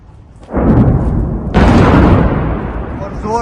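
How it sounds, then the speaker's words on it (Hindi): A nearby Iranian ballistic missile strike explodes in Tel Aviv as a loud, deep, rumbling blast. A second heavy surge follows about a second later, then a long roar fades slowly. "जोरदार धमाका, उसका मतलब है कि यहीं कहीं पास में गिरा ये"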